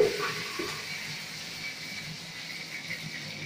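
Mustard seeds, fenugreek and curry leaves sizzle in hot oil for a brinjal gravy, a steady close frying hiss that starts with a brief louder burst and then settles to an even crackle.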